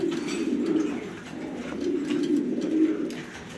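Pigeons in a loft coo steadily in a continuous low, rolling drone, several birds overlapping close by with a few faint chirps on top.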